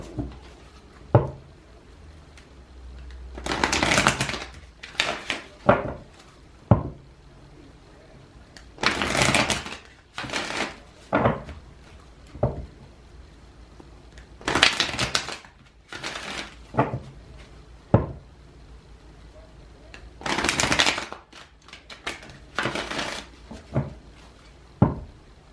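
Repeated bursts of riffling and shuffling cards, each lasting a second or two, separated by quieter pauses with soft handling taps between them.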